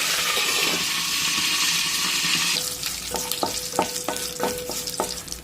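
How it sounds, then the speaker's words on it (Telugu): Curry leaves and dried red chilies dropped into hot oil crackle with a loud, bright sizzle that abruptly calms into a softer fry, broken by a run of sharp metallic spoon taps against the pan. "ఇందులో కొంచెం కరివేపాకు, 4 ఎండుమిరపకాయలు, కరివేపాకు, ఎండుమిర్చి 2 ఒకటేసారి వేసుకోవాలండి"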